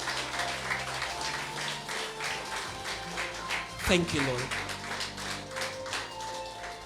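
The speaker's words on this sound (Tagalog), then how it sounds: "Pinakamalakas sa palakpak na pwede natin ibigay sa Kanya." Church congregation clapping along at a Born Again Christian service, with steady rhythmic claps under spoken and sung voices and one louder burst near the middle.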